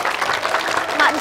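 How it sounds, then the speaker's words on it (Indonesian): A group of people clap in a burst of applause at a home-renovation handover, the dense, steady patter lasting about a second with voices mixed in. "Tepuk tangan."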